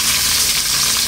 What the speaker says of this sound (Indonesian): Goreng lele pakai glepung